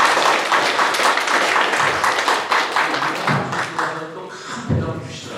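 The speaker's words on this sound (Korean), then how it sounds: "주민 대표로 우리 그 시장님께 박수 한번 보내주시기 바랍니다." A crowd of residents at a town-hall meeting with the Sejong mayor in Sojeong-myeon breaks into loud, dense applause that fills the room and gradually thins out, with voices starting to speak as it fades.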